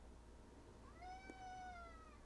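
A cat gives a single drawn-out meow, clear and fairly close, over a faint background hum.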